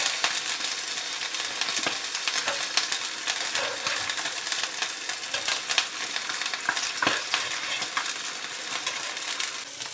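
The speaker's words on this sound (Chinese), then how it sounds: "如果咱们把这个鱼煎的像这样两面金黄的这种，咱们就可以给它先夹出来" Fish fries in hot oil in a wide pan, a continuous close sizzle broken by frequent sharp spits and pops, with the loudness flickering throughout.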